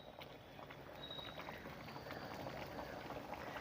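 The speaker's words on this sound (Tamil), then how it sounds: "குழம்பு கொதிக்க ஆரம்பிச்சிச்சு." Steady bubbling of appalam kuzhambu (Tamil tamarind curry) boiling in a pot, a continuous soft gurgle with small pops, fairly quiet and close, with no voices.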